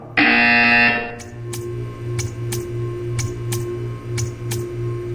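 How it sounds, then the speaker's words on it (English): A loud electronic buzzer from the Portal 2 video game sounds for just under a second, followed by a steady low hum with a series of evenly spaced sharp clicks. "You will hear a buzzer."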